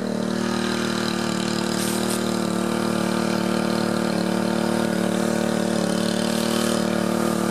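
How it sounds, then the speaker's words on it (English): A pump motor runs with its pump cavitating, giving a steady, loud mechanical drone with a constant hum and rough texture that holds unchanged throughout. "Then you hear the load come off the motor, the pump's cavitating."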